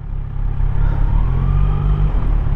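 A BMW RT touring motorcycle passes close by, heard from another moving motorcycle, its engine a steady loud rumble that swells and holds with a faint rising whine over continuous wind and road noise.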